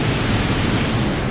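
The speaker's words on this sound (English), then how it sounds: "I'm at the lake and we do have a waterfall here." Waterfall at a lake pouring in a steady, loud broadband rush of falling water that fills the whole short stretch with no pauses or voices.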